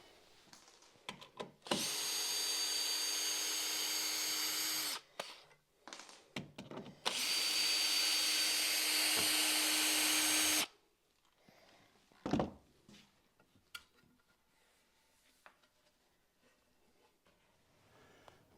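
Router cutting a rebate into the bottom of an oak newel post, two loud sustained whining bursts of about three seconds each with a short gap between, followed by a few knocks and quiet handling.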